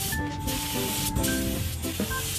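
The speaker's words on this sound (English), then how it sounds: "And spraying it up now." Spray paint hisses onto a small wooden jewelry box in short, close bursts, with faint tonal background sound running beneath the spraying.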